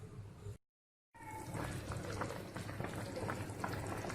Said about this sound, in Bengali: 10 মিনিট আমি ফোটার জন্য রেখে দিলাম।